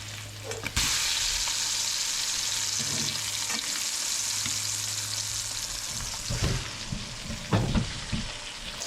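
Salmon fillets sizzle steadily in a hot skillet, a continuous bright frying hiss, with a few louder scrapes and bumps near the end as a spatula turns the fish.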